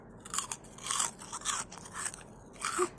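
Crispy dinosaur-shaped snacks, a hard-to-find retro Thai treat, crunched close to the mic in ASMR style, with about five loud, sharp bites and chews spaced evenly and no talking.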